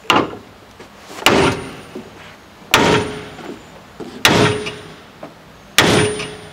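Someone is hammering a car bumper hard, five loud, sharp impacts spaced about one and a half seconds apart. Each blow rings out briefly and dies away, with smaller knocks and clatter between the strikes. No speech is heard.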